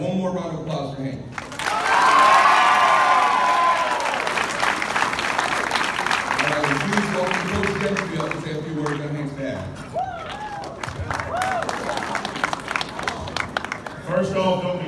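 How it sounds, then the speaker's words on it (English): An audience at a school jersey presentation breaks into sustained applause with some cheering, a loud, dense clapping that swells then carries on under people talking. "All right, one more round of applause for Hank."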